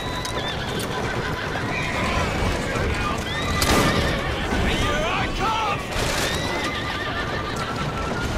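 A horse neighs and its hooves clip-clop in the video game Assassin's Creed Syndicate, with a loud whinny mid-way over a continuous trotting rhythm and some background game noise.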